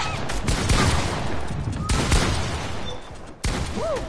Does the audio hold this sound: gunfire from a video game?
yes